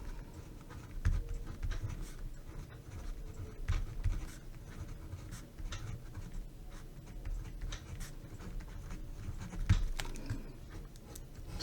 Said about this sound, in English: So for now, let's just write out our steps.